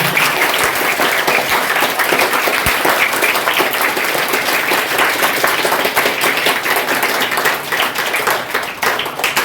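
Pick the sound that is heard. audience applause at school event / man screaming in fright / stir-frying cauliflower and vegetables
audience applause at school event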